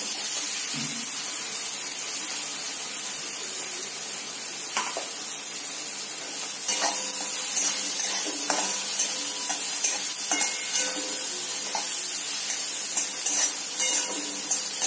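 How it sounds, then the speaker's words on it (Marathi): Pasta with carrot and bell pepper sizzles steadily in hot oil while a spoon scrapes and stirs through it, a continuous close frying hiss broken by occasional clinks against the pan, with no talk. "तेलावर आपण याला छान असं ब्राऊन रंगावर परतवून घेणार आहोत।"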